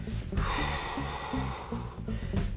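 A forceful breath out through the nose and mouth during a home CrossFit stretching routine, close and breathy, rising and falling over a couple of seconds with faint background hum.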